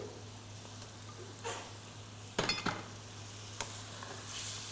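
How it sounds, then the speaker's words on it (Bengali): Chicken pieces stirred with spices in a pot, giving a low steady sizzle under a hum, with a few scraping clinks of a spoon against the metal and some soft stirring strokes. "মাংসটা আমরা এই মশলা দিয়ে নাইসলি কষাবো"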